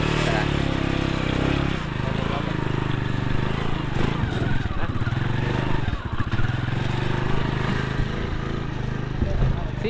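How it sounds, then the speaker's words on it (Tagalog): Air-cooled engine started and left running, a loud continuous rough mechanical drone with some uneven sputtering, close by, with a voice speaking over it. "magpapaandar tayo ng makina"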